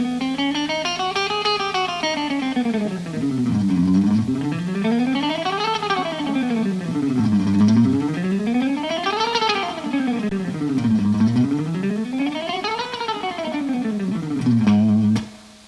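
An electric guitar plays a rapid speed-picking exercise, distorted runs sweeping smoothly up and down the neck in repeated rising and falling arcs for about fifteen seconds, loud and alone before stopping abruptly.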